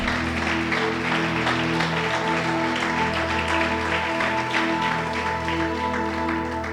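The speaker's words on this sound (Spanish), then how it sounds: "Dale un aplauso al Señor." A church congregation claps for the Lord during a sermon by Profeta Jorge Pana, steady moderate clapping over sustained, droning instrumental music throughout.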